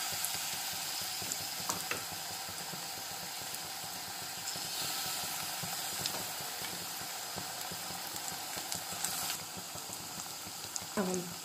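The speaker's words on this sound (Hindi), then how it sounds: "अब मैं इसमें पकौड़े तल लेती हूँ" Pakoras frying in hot ghee in a kadhai, a continuous dense bubbling sizzle heard close up, with occasional light taps and clinks of a utensil.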